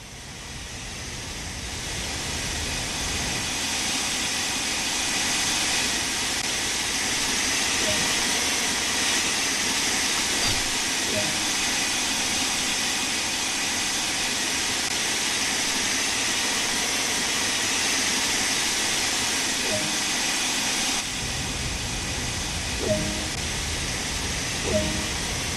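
A steam locomotive in Train Sim World 2 runs with a steady hissing, breathy roar, faint clanks and ticks scattered through it, and the sound shifts a little near the end.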